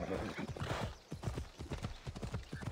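Horse hooves clip-clopping in the video game Assassin's Creed Odyssey, a steady rapid run of close hoofbeats with a brief whinny-like sound at the start.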